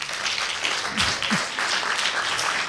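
Audience applause at a science-communication competition event in a gallery, a continuous, fairly even crowd clapping with no speech over it.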